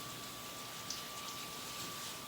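Running water from a kitchen sink tap pours over peppers in a colander, a steady close hiss of spray and splashing throughout with no talking.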